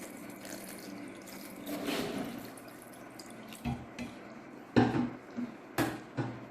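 Vinegar poured into a cooking mung bean dish, with faint trickling and dripping of liquid followed by several sharper splashes and clinks near the end, quiet and close.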